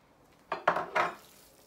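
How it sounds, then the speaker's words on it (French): A ground beef meatball mixture with onions being mixed in a bowl, heard as three quick clinks and scrapes of a utensil against the dish, fairly quiet, in an otherwise hushed room. "Donc il faut mélanger le tout."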